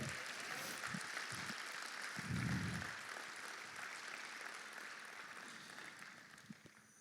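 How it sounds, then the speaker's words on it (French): A church congregation at an Easter Sunday service claps together in a steady, fairly faint wash of applause that continues for several seconds, with a few louder thumps mixed in. "Est-ce qu'on peut acclamer le Seigneur pour cette célébration?"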